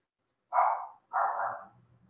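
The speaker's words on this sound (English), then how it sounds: "That dog starts barking." Two short barks from a dog, close and fairly loud, spaced about half a second apart, with a soft trailing sound after the second and no talk.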